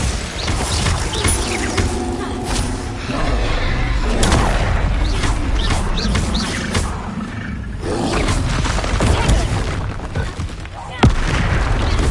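Spell explosions in the Hogwarts Legacy video game: fire and blast spells burst repeatedly in booming, crackling impacts with a roaring undertone, one sharp bang near the end, alongside game voices.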